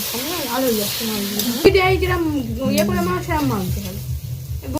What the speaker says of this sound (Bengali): ওই বড়াগুলোকে তেলের মধ্যে ছেড়ে দিয়েছে